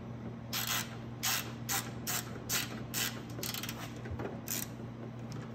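A hand ratchet tightens bolts on the gas tank of a Venom Mini Jeep 125cc, giving short, crisp clicking bursts repeated about eight times at an uneven pace, close up in a quiet room with a faint background hum.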